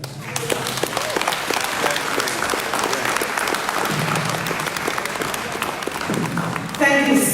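An audience at a talk about Louise "Miss Lou" Bennett-Coverley breaks into sustained applause, a dense steady wash of clapping that carries on evenly throughout with no voices over it.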